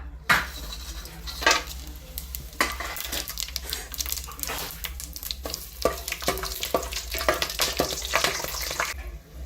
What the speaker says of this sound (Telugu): నూనె అయితే కాగిపోయింది. మన మసాలా అయితే వేసేసుకుందాం.